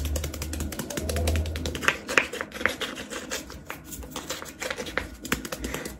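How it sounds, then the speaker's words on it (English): Rapid clicking and tapping, a steady run of light plastic clicks at close range with no voices. "mouse clicking noises"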